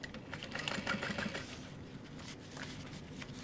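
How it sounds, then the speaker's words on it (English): Sewing machine top stitching through a tote bag's folded exterior, a quiet rapid mechanical whirr of the needle running steadily at close range. "I'm top stitching through my exterior, folded on itself"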